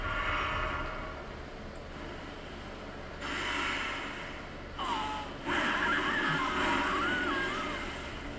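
A horse neighs and whinnies in a video game, with breathy snorts rising over a steady background of game noise, the whinny strongest toward the end.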